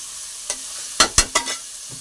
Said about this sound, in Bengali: এটা ভাজা ভাজা করবো খিচুড়ি দিয়ে খাওয়ার জন্য